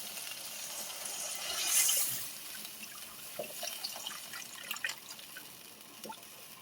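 Water poured into a pan of fried spice masala for a koi fish curry, giving a soft, fairly quiet splash with scattered drips and light liquid ticks.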